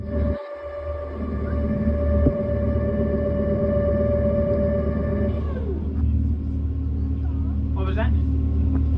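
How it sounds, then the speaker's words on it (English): Vertical thrusters on a tourist submarine underwater off Hawaii whir steadily with tonal hums over a deep, constant rumble, one hum dropping in pitch midway while a voice speaks over it. "That whirring right there, that's our vertical thrusters."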